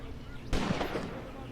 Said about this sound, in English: Look at that gunfire.